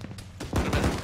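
Rapid gunfire in a video game, a quick cluster of loud shots rattling after a short quieter lead-in, with voices faintly underneath.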